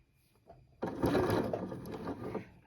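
A sewing machine running free-motion stitching: a faint tap, then the motor kicks in with a steady, close whirring chatter of rapid needle strokes that keeps going for nearly two seconds before it slows.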